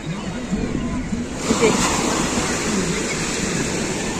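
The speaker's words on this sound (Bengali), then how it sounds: "পুরো সাপের ফনার মতন আসছে ঢেউগুলো।" Big ocean waves breaking on a crowded beach, a loud, steady roar of surf with a swell of crashing water midway, heard close and continuous.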